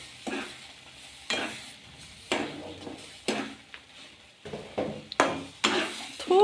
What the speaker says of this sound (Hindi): इसको जब तक मिक्स करेंगे, जब तक हम अच्छे से चलाएंगे